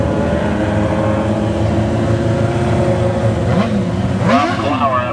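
A dwarf race car engine on a dirt track at a heat race, droning steadily with rising revs near the end while an announcer talks over it.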